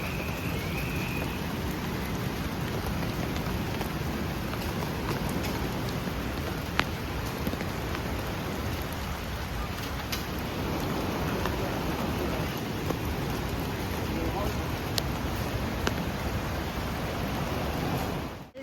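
Rain pours steadily at a living root bridge in the hills of Meghalaya, a dense, even hiss of drops on leaves and surfaces lasting throughout with no talking.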